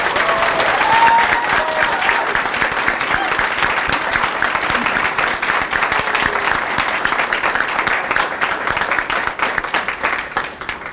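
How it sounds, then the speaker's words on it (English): A high school signing ceremony audience applauds future educators, with loud, sustained, dense clapping filling the room, steady for the full stretch and easing slightly at the end. "Ladies and gentlemen, let's please have a round of applause for our future educators."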